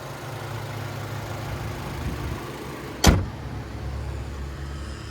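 Hood of a 2023 Chevrolet Colorado Trail Boss with a 2.7-liter turbocharged four-cylinder, a single sharp metallic latch thunk over a low steady outdoor rumble.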